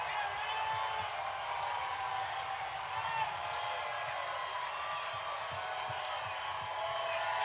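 A large crowd cheers steadily and loudly along the route of the Oklahoma City Thunder's first NBA championship parade as players pass by, a continuous wash of distant voices and whoops with scattered clapping.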